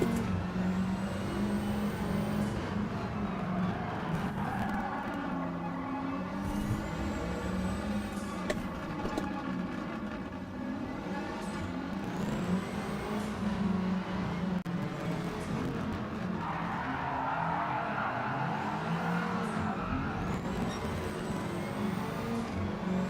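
Rallycross cars from a racing video game roar and slide through a corner, engines revving steadily with tire scrub and continuous loud motor noise throughout, no one talking.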